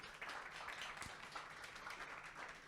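A stand-up comedy audience applauds in a soft, steady patter of claps with a single sharper clap standing out midway, heard faintly and without speech.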